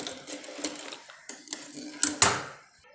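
A sewing machine stitches a one-piece dress made from an old saree, running in short bursts with stops and starts, a sharper clunk near the end.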